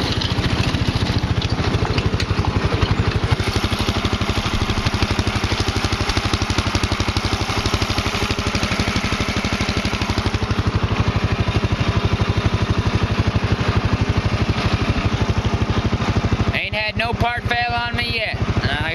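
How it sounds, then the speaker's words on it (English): An off-road go-kart with a Predator 420cc engine drives trails, its motor droning steadily and loudly throughout with little change until a short break near the end. "something different than driving on the pavement. After all, this is an off-road go-kart."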